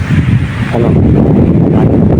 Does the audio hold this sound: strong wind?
yes